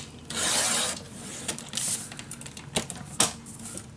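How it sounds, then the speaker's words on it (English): A sheet of designed craft paper being cut to an 8 by 8 piece for a magic box gives a quiet, close slicing rasp, then a few short irregular snips and rustles. "I'm gonna cut my piece"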